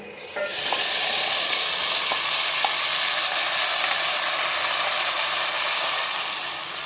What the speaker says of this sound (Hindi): अब बारी है इसमें मैरिनेटेड चिकन ऐड करने की।